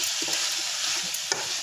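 Mint, coriander and sliced onions being stirred in a pan, a steady soft sizzle with scraping spoon strokes and one sharper clatter near the end, close and alone without speech.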